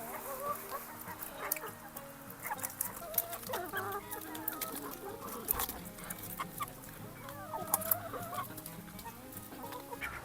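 Several chickens cluck and murmur continuously, close by, pecking at cabbage, with scattered sharp pecking and rustling noises throughout.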